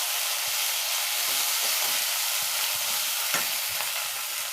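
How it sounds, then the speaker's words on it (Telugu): Onions and green chilies fry in a pan with a bright, even sizzle, while a spatula scrapes and taps against the pan now and then, close and steady with no voices. "ఇదిగోండి చక్కగా ఉల్లిపాయలు పచ్చిమిరపకాయలు ఇలా ఫ్రై అవుతున్నాయి కదా"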